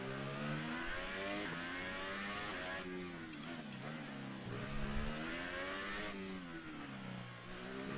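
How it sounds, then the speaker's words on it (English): An F1 car in the F1 2018 racing game, driving the Azerbaijan Grand Prix circuit, whines through rising and falling engine revs as it accelerates and shifts, heard fairly quietly and without talk. "I'm accelerating because if you accelerate a little too much, it throws off your rhythm"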